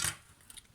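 A brief, faint snip-like clink of scissors being handled, a quick metallic rustle close by in a quiet room.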